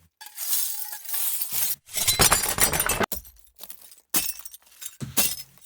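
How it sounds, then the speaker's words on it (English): Prepared glass samples shatter in a series of loud, close crashes, like a mirror or window breaking. Each burst of breaking and tinkling shards is separated by brief silences, with no talking. "maybe you want to create a glass shatter sound, like when someone's breaking a mirror or a wooden window"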